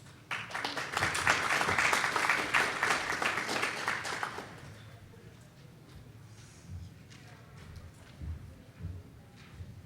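Applause from a conference audience at a transportation science and technology session, a dense broadband patter for about four seconds that then fades to quiet room noise with faint shuffling.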